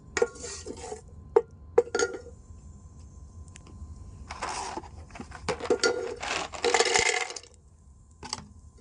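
Ghee melting and being stirred in a metal pan while making payasam, heard as scattered clinks and scraping of a spoon against the pan, with quiet gaps between bursts of stirring.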